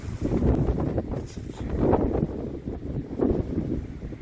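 Strong spring wind buffets a microphone outdoors near a garden pond, a loud rumbling roar that surges in gusts for several seconds, with no talking.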